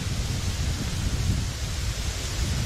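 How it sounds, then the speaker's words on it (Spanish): A dense, constant roar of falling water fills the air from the twin Cascadas Gemelas waterfalls in Ecuador, close and loud with no voices. "hemos llegado a las primeras cascadas llamadas gemelas"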